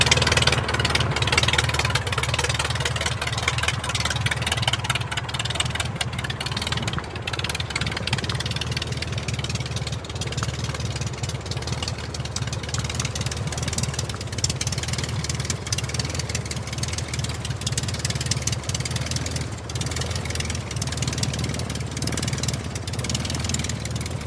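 A light tailwheel airplane's propeller engine idles steadily and loudly nearby, a continuous throbbing drone with no change in pitch throughout.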